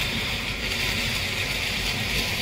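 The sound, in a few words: strong wind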